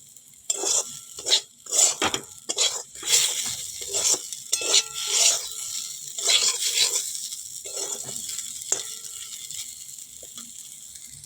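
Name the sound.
neem leaves frying in a wok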